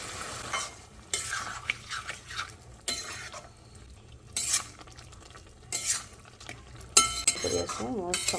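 Carrot halwa with condensed milk and milk cooks in a pan. A spoon stirs and scrapes in repeated bursts, clinking against the metal over a steady low sizzle, with no talking.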